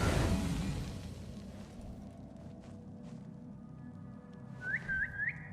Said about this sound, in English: if you heard a whistle like that, you probably wouldn't go and investigate